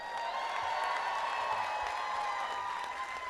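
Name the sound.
applause at a college commencement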